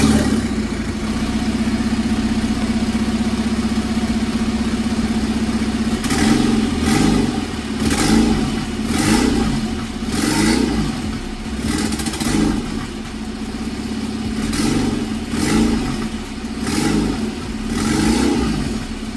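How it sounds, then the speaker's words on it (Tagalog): A turbocharged car with a hood-exit exhaust idles with a loud, rough rumble, then gets blipped into repeated revs that surge and fall back in a pulsing rhythm. The sound is close, with no talking over it. "ito yung tunog ng ating 15k na hood exit"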